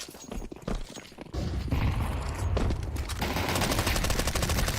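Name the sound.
SMG gunfire in video game Counter-Strike 2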